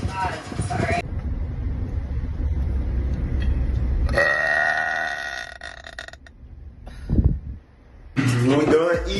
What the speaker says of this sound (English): That was the weakest burp ever, and I'm disappointed that that was on camera.